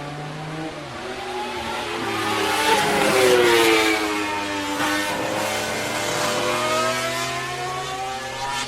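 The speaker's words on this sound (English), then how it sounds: "a nice couple of Hondas just went by from the 70s" A couple of 1970s Honda motorcycles pass by at a speed event, their engines rising in pitch as they approach and falling as they move away, heard at a moderate distance with no talking.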